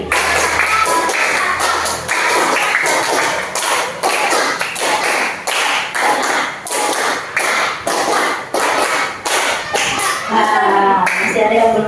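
A classroom of children claps together in a steady run of short, loud, crisp bursts, with some shuffling and a teacher's voice now and then between the claps.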